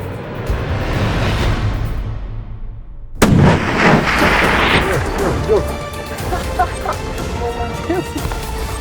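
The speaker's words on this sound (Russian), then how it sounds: "Выстрел произошел прямо в грудь" A single sharp rifle shot cracks loudly outdoors in the Caucasus mountains during a tur hunt, followed by a lingering echo and then voices talking nearby.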